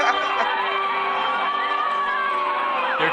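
A crowd whoops and cheers, with high, sustained voices and overlapping shouts rising and falling in one continuous burst.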